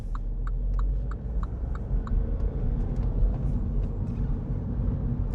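A 2018 MINI Cooper D F56 three-door hatchback with a 1.5-litre 116 hp diesel, manual gearbox and 153,000 km gives a steady low engine drone and road rumble from inside the cabin as it picks up speed, with faint ticking.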